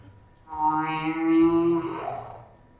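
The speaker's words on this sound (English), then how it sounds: "we know whales sing and no one else does" A single humpback whale call, recorded on its own: a long, rising, tonal moan that swells and then fades away against a quiet background.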